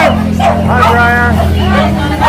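Dogs bark and yip repeatedly at a busy pet market, loud and close, with a steady hum of crowd chatter and market noise underneath.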